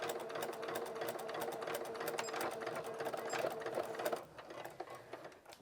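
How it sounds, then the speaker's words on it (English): Sewing machine runs a short back stitch on a polo shirt placket with a fast, even mechanical whir and needle clatter, close by, which stops near the end and leaves quieter handling noises. "I'm going to do a little back stitch"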